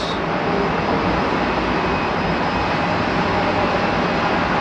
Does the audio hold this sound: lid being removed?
no